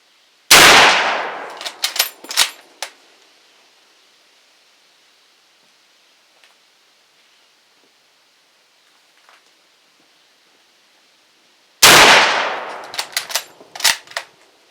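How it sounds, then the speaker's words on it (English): Two loud 8mm rifle shots fired with Privi Partisan ammo under a tin roof, each a sharp close blast followed by rattling metallic echoes, separated by about eleven seconds of near silence. "They're loud enough under that tin roof"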